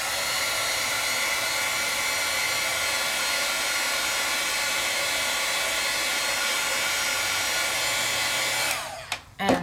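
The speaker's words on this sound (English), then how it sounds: "let's just give a quick heat set" A handheld heat tool blows with a steady, loud whooshing hiss for about nine seconds while setting stamped ink on paper, then switches off and winds down sharply at the end.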